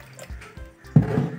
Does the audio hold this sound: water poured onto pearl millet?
yes